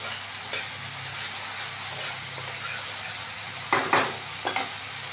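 Pabda fish cooks for a curry in a pan with a soft, steady sizzle of frying oil, broken near the end by a few sharp scrapes and clatters of stirring.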